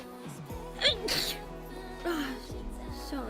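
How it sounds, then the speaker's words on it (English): One person sneezes once, a sudden burst over a steady background with faint music-like tones underneath, followed by small breathy sounds. "And now I'm gonna sneeze."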